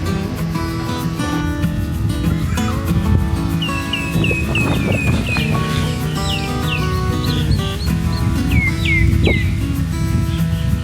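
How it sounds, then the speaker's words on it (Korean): Birds chirp and whistle in repeated short phrases over a busy, dense background of other tones and noise at a golf camp in Thailand, fairly prominent and continuous. "이게 지금 새소리가 좋잖아요?"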